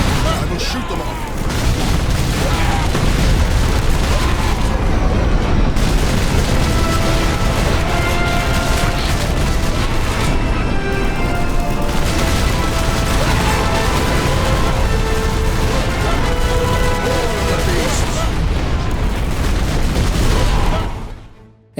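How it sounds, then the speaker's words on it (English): Relentless gunfire and explosions in the video game Warhammer 40,000: Space Marine as orcs are shot down, dense bursts and booms running continuously and loud throughout, with a few voice lines mixed in. "Pilot, match speed. I will shoot them off."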